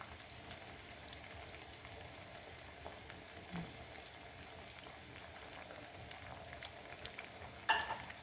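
Food frying in a pan after tomato sauce goes in for Cajun fried fish, a quiet steady bubbling sizzle with soft stirring scrapes and one louder clink near the end.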